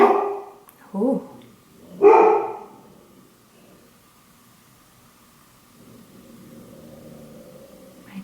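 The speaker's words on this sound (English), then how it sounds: "My dog barking." A dog barks loudly nearby in two short bursts, then faint indoor background hum and a low murmur follow.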